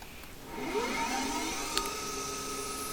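A CNC lathe machining a brass part at 3000 RPM gives a steady whirring hum with a rising tonal whine as the spindle works, close and continuous, with one brief tick near the middle and no talk.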